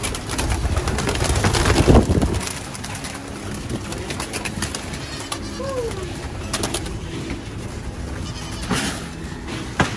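Goats bleat at a pigeon loft property in Virginia Beach, a few short calls standing out against continuous pigeon cooing and ambient farmyard noise.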